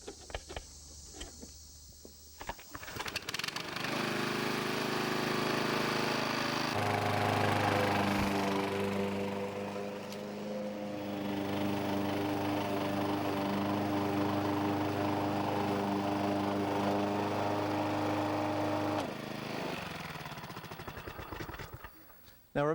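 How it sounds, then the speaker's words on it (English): A lawn mower runs steadily on a fescue lawn, a loud continuous engine drone that starts up, holds for most of the stretch, then winds down, with no talk. "once we finish mowing it here, you'll see the difference in where it's been mowed"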